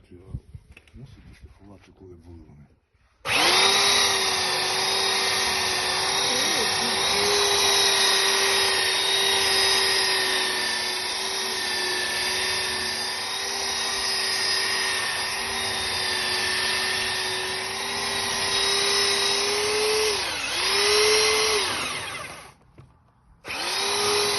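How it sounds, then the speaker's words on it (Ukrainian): A power sander whines steadily and loudly for about twenty seconds while sanding a wooden door, briefly dipping near the end before cutting out. "Це вже буду шліфувати на готово."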